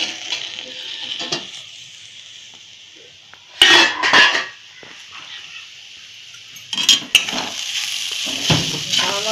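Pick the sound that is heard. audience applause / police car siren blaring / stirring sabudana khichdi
stirring sabudana khichdi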